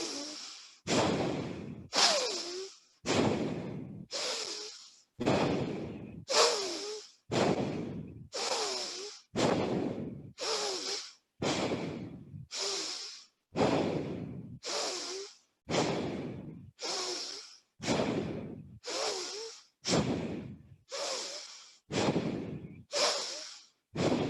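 Slow, deep breaths during a yoga class repeat in a steady rhythm, each long airy inhale or exhale close and clear, with short pauses between them and no talk.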